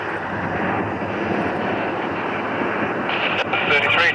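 Airplane taking off at Toronto Pearson airport, a loud sustained jet engine roar heard at a distance, with radio voices over it.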